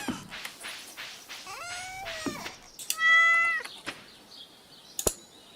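A cat meows over and over, several short calls and then a longer, drawn-out cry, fairly close, with a sharp tap near the end.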